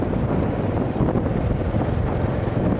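Steady, loud wind buffets and roars against a microphone on a coastal road between Mui Ke Ga and Phan Thiet, a continuous broadband rush with no breaks or voices.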